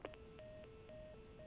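Telephone keypad tones in the video game The Last of Us, a rapid series of dialing beeps heard alone and quietly against a soft hiss.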